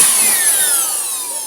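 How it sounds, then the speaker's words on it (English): Compressed air blasts dust out of a laptop cooling fan, a loud close hiss with a whining tone that slowly falls in pitch as the fan spins down, steady and alone. "I had to blow the fan to make sure that all the dirt, the grime, the hair, and all the dusty particles are removed"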